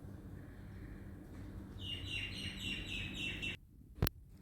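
Birds chirp in quick repeated high tweets over a steady low background hum, fairly close, before stopping abruptly.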